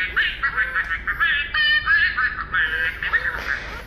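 My Special Aflac Duck robot toy sounds a rapid run of electronic quacks and chattering bursts, bright and close, continuing steadily for a few seconds with no other sound over it.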